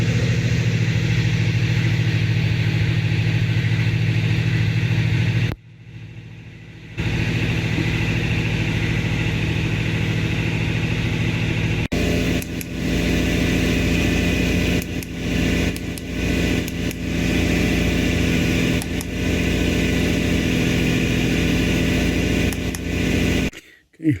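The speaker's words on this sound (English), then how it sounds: "Later on I tried to start up the car and it started up." A Jaguar S-Type X200 with the 2.5 V6 engine, after its water pump, serpentine belt and thermostat were replaced, runs at a steady idle, with a brief gap and then a restart that continues under uneven, fluttering engine noise.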